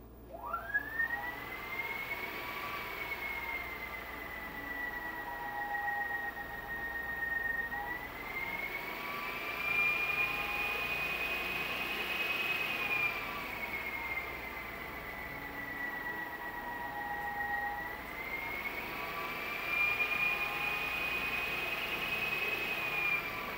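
Motor and propeller on a flight stand during a PID tuning test, a loud steady whine that rises and falls in pitch in slow repeated cycles, running alone without talk.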